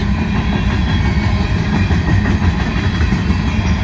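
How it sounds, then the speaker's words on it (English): A loud, steady rumble and clatter of a Union Pacific hopper freight train, locomotive UP 5296, rolling eastbound past close by at a railroad crossing, continuous wheel noise with no break. "So this one, I believe, is a hopper train now"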